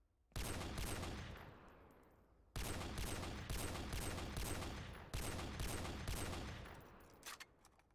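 Barrett sniper rifle in the Modern Warfare 2 Remastered campaign, fired three times in a row, each loud booming shot followed by a long fading echo tail, with no talking.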